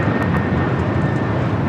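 Airliner engine roar at Los Angeles International Airport (LAX), a steady, loud broadband rumble that holds evenly through the whole short stretch with no voices.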